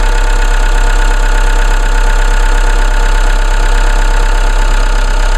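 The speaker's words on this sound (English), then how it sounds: "That's a 2-liter, 4-cylinder Ecotec turbo diesel." A 2-liter, 4-cylinder Ecotec turbo diesel engine built by GM idles loudly and steadily up close, a constant rumbling drone with a rhythmic knock and no voices.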